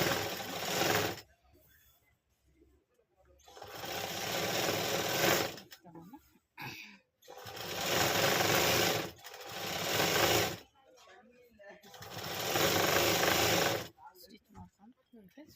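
A sewing machine stitches an alteration on the shoulder of a nightie in loud, rapid mechanical bursts of several seconds each, separated by pauses, with a person talking between runs.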